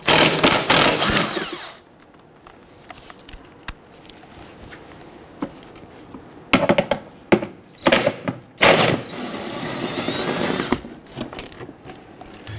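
Splash guard bolts come off the underside of a 2011-2021 Jeep Grand Cherokee 3.6L V6 with a power tool, heard as loud whirring bursts separated by quieter gaps.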